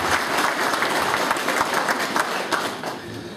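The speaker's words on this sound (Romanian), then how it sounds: "Să vă aplaudăm!" Audience applause at a commune day celebration in Gologanu, Vrancea, steady and fairly loud dense clapping from a sizeable crowd, sustained throughout and easing slightly near the end.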